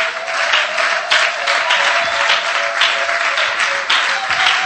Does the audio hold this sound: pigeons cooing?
no